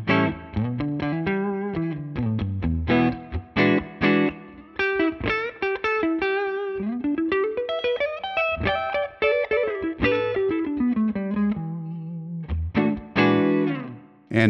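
Electric guitar played on the neck pickup through a dual-amp Tonex rig, loud and continuous, with distorted, chorus-laden melodic lines, slides and sustained notes, plus a brief pause near the end before playing resumes.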